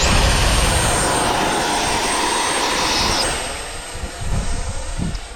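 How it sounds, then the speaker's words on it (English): A Futura 64mm electric ducted-fan RC jet whines steadily at full throttle during an auto launch into a strong headwind, a loud continuous high tone that thins and fades as the plane pulls away, with gusty rumbling near the end. "This plane is ready to launch."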